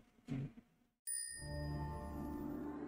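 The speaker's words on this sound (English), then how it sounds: "You kind of tell you hear the little bell thing" A small bright bell chime from the Hero Wars: Dominion Era game rings once, clear and sustained, slowly fading over a couple of seconds after a brief soft sound and a moment of silence.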